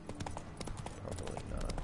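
A horse's hooves clip-clop at a quick, steady pace in the video game The Witcher 3, rhythmic hollow knocks at moderate loudness, with a faint voice in the background.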